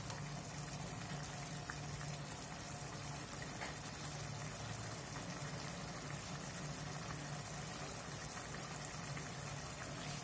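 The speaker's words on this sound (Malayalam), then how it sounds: "ഒന്ന് തിളച്ച് വന്നിട്ടുണ്ട്, അപ്പൊ നമുക്ക് പൊടികൾ ചേർക്കാം." Fish curry with coconut milk bubbles in a pot over a village-style fire, giving a steady, soft, continuous simmering hiss with no voices.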